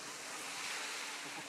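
Baltic Sea surf and wind on the coast at Fehmarn: a steady broadband roar of breaking waves with wind buffeting the microphone, close and continuous, no talk.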